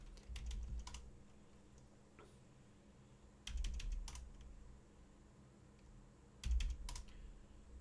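Keys on a computer keyboard are pressed during a cybersecurity lab, three quiet clusters of close clicks and taps separated by pauses, with a soft background hum and no talk.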